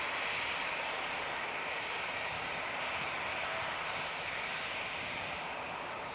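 EasyJet airliner taxiing at Manchester Airport, a steady broad engine roar holding at an even level throughout, fairly close and continuous with no voices.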